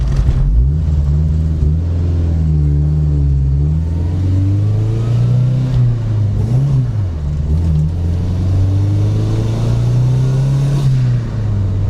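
A turbocharged Datsun wagon with a GT3582 turbo pulls hard, its loud close engine note rising and falling through repeated revs and gear pulls, with a faint whir layered over the drone.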